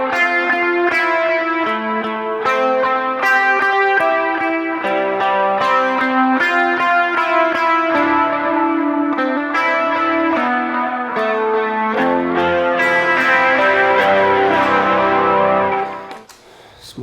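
Electric guitar lead lines through a Neural DSP Quad Cortex, with sustained distorted notes, chorus and echo shimmer, played loud and close before cutting off near the end.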